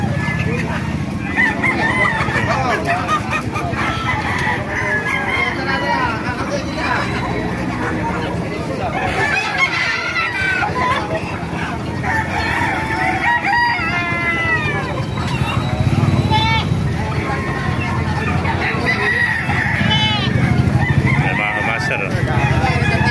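Rhode Island roosters crow repeatedly amid a busy mix of clucking fowl and other animal calls at a market in Baliuag, with people talking in the background throughout.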